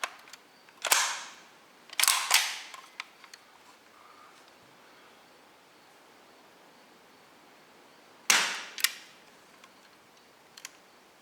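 A Hellboy CO2 .177 caliber air pistol fires several sharp, snappy shots, some in quick pairs, separated by quiet pauses, with faint clicks of handling between them.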